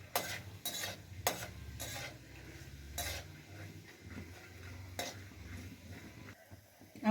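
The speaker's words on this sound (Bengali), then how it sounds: "এই তেলের মধ্যে আমি বাদামটা দিয়ে দিলাম। বাদামটা আমি ভালো করে ভেজে নেব।" Peanuts frying in oil in a wok, heard as a steady low sizzle with repeated scraping and stirring clatters of a utensil against the pan, close and moderately loud with no talking.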